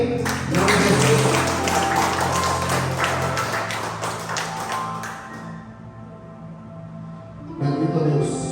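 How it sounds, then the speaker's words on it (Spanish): Applause from a church congregation, dense rapid clapping for several seconds that thins out, followed by a sustained musical tone and a renewed burst of sound near the end. "Den un aplauso al rey."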